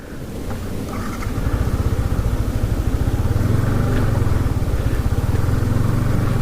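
A motorcycle cruises along a highway between Indore and Bhopal, its engine droning steadily with a throbbing low pulse and rising slightly as wind rushes past, with no talking.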